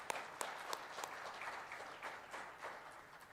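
Conference audience applauding, a quiet, distant patter of scattered claps with a few sharper individual hand claps near the start, fading gently over a few seconds.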